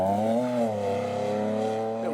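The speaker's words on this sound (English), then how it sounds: "Little kick of the clutch there." BMW M3 race car, E46 or E36 super saloon, revving hard on a racing circuit, with a brief clutch kick; a steady, loud engine drone with shifting pitch, continuous throughout and heard alongside commentary voices.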